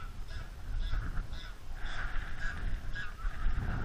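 Ducks calling noisily while taking off and flying upwind over a fishery lake, with repeated harsh squawking calls at a moderate distance over a steady outdoor background.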